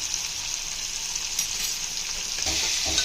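Drumstick pieces with chopped tomato are stirred in hot oil in a pan for a tamarind curry: a steady close sizzle with scraping stirs that grow louder near the end, no talking.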